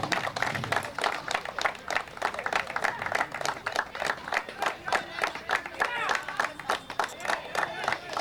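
An audience claps at a cricket tournament award ceremony, producing a dense run of sharp hand claps that rises and falls for several seconds.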